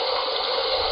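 Ocean water sound effect from a LeapFrog A-Z Learn With Me Dictionary toy: a steady, broad rushing wash of water that stays even and fairly loud throughout, with no voices.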